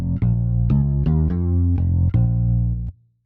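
'80s hi-fi bass' synth preset played without EQ, a fuller, woollier bass line of several plucked notes with a sharp attack on each, alone and prominent, ending abruptly in a short low tail.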